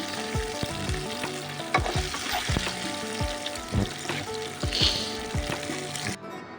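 Potatoes frying in oil in a pan, a close crackling sizzle broken by repeated scraping stirs and clinks of a spoon, settling into a steadier fry before cutting off.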